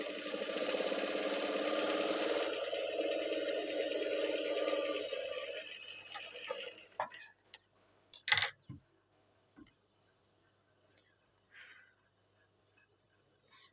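A sewing machine stitches a blouse body piece with a continuous close whirring hum that cuts off midway, followed by a few sparse clicks and small handling sounds in near silence.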